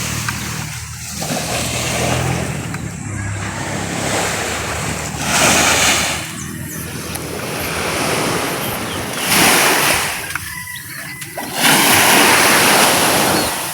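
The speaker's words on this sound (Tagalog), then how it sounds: "Kalmada po yung dagat ngayon." Gentle sea waves roll in and wash ashore in slow, regular surges every few seconds, with wind buffeting the microphone throughout.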